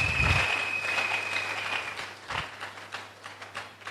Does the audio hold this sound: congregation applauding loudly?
yes